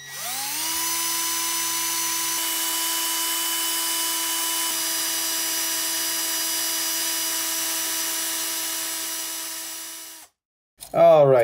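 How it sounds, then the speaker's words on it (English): A metal vibrato spindle from a Squier Bass VI being worked with a power tool, a steady, loud, high-pitched whine running continuously for about ten seconds before cutting off abruptly, followed by a brief sound. "I'm gonna have to file that down quite a bit."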